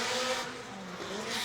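A drift car on a circuit roars at high revs as its tires squeal continuously. The sound is loud and sustained, with no talk over it.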